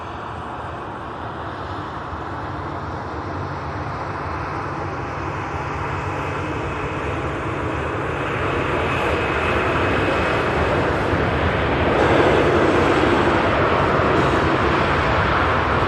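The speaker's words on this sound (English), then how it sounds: "Virgin A350 will be taken off shortly over on the south runway" A Virgin Airbus A350 takes off from the south runway at Manchester Airport, its loud, steady jet roar swelling gradually over the stretch and heard alone without talk.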